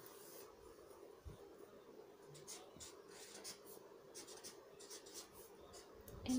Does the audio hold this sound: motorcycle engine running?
no